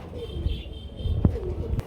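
Pigeons coo softly in a short, low burst, with a sharp tap and faint rustling around them and no voices.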